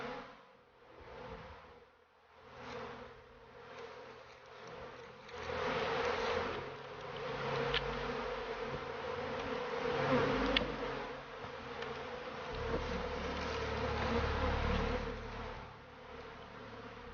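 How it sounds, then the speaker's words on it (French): A dense honeybee swarm hums continuously, rising and falling in loudness, a steady close buzzing with no voices. "frapper un essaim d'abeilles qui s'est échappé dans une ruche"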